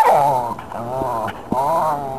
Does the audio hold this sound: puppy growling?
yes